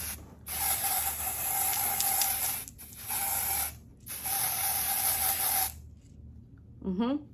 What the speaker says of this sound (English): And just some quick sprays, that's it.